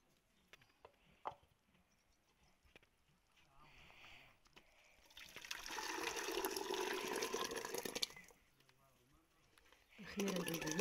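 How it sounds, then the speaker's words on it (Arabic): Harira soup poured from a cooking pot into a new dish, a broad liquid wash building in the middle and holding steady for a couple of seconds, with clinks and faint handling sounds around it. "غادي نكب فيه هذيك الحريره اللي تطبخ، نكبها هنا في هذا جديد"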